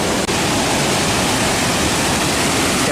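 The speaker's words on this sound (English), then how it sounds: "the splashes of water is really terrible" Dassam Waterfall in Jharkhand roars and splashes right at the microphone, a dense, loud, unbroken wash of falling water with no voices.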